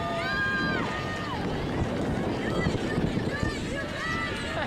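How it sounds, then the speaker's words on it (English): Strong wind gusts across an outdoor cardboard canoe race course, roaring steadily against the microphone while people talk nearby. "It's also a very windy day,"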